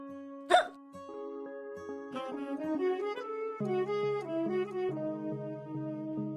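A single sharp hiccup bursts out near the start of a Marathi TV serial comedy scene, loud and sudden, followed by music that swells and carries on underneath.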